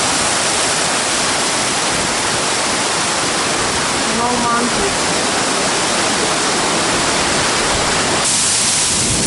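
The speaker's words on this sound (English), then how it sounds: "Second waterfall, and this waterfall is close to the road." A loud waterfall close to a road in Indonesia roars in a constant, dense rush of falling water. A voice briefly speaks over it.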